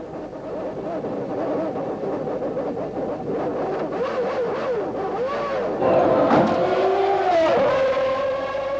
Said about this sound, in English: Listen to his engines spluttering.